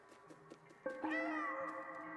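A cat meows in the video game Stray with an echoing, reverberant quality, starting with faint short mews and building to a loud, drawn-out meow that rings and fades.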